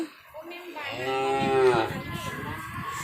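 A crossbreed Thai beef calf gives one loud, drawn-out moo up close, rising and falling over about a second amid farmyard background noise.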